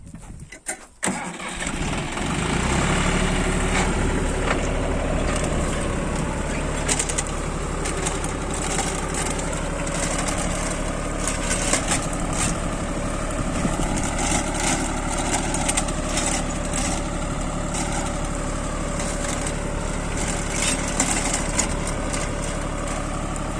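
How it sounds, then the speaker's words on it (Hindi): A tractor engine cranks and catches, then settles into a steady, rumbling idle that continues at an even level with small fluctuations, in a sugarcane field. "अब मैं अपने ट्रैक्टर को स्टार्ट कर रहा हूँ।"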